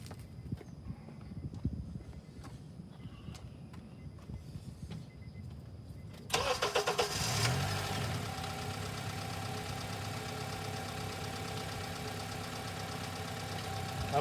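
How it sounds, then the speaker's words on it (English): A quiet background gives way to a car engine cranking and catching partway through, then settling into a steady, rumbling idle. "So basically, I will start the car"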